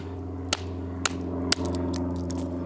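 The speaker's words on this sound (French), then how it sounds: "je tape vraiment que sur la lame" Three sharp metallic taps on the blade of a Cold Steel Code 4 knife, spaced about half a second apart, ringing over a steady low hum.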